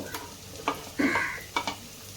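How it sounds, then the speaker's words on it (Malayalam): Chopped valari payar (long beans) being stirred with masala and turmeric in a pan: a few distinct scraping strokes and spoon knocks over a soft, low sizzle, heard close and without any talk. "എല്ലാ പയറിലും ആ മസാലയൊക്കെ ഒന്ന് പിടിക്കത്തക്ക രീതിയിൽ നന്നായിട്ട് മിക്സ് ചെയ്യാം"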